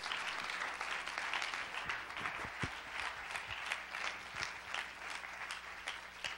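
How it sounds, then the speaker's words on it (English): Church congregation claps for a man coming forward, a steady, moderately distant round of applause with scattered individual claps standing out, continuing for several seconds. "Let's clap and give Jason a hand as he comes."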